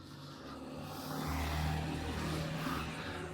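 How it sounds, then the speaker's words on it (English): A car passes by outside, a faint engine rumble that rises to a soft swell midway and then eases off, distant and muffled. "luckily a car passed"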